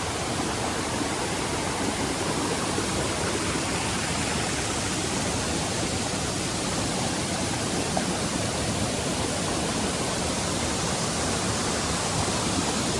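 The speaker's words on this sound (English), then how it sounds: "Rua Waterfall is not the most visited waterfall on the island, but it's a cool one, especially after rainy days" Tan Rua Waterfall on Koh Samui after rainy days, a steady broadband roar of falling water, loud and unbroken throughout with no voices.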